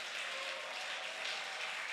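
A church congregation clapping hands together at a convention, a faint, dense and steady wash of applause from many people that continues evenly without a break.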